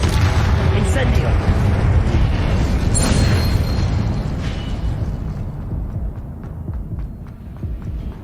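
An Incendio fire spell in Hogwarts Legacy erupts as a loud, booming burst of flame that roars across the opening seconds and then slowly fades, with a voice speaking over it.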